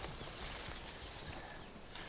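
Horse hooves clopping at a steady walking pace in a post-Civil War Western film, moderately close, over a dense, noisy outdoor background.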